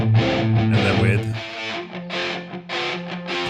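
Electric guitar run through a Guitar Rig effect with the low end EQed out plays a thin, distorted melodic line in sustained phrases, loud and close, with short gaps between notes.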